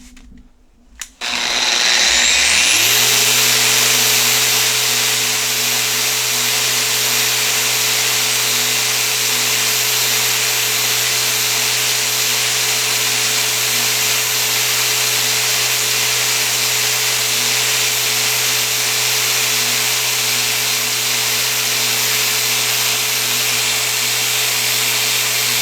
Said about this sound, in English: let's see if it'll run my Bosch 6-inch random orbit sander with a Festool CT48 dust extractor attached to it with no load